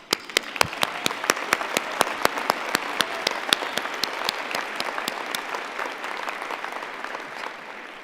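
A convocation audience at the University of Calgary's 2018 ceremony breaks into sustained applause, a dense wash of many hands with sharp individual claps popping out, steady and fairly close, tapering slightly toward the end.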